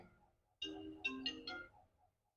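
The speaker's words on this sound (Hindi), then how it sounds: "किसका फोन आ गया भाई?" Mobile phone ringtone playing a short melodic phrase of a few bright notes, fairly faint and ending abruptly.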